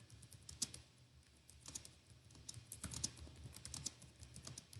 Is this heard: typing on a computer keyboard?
yes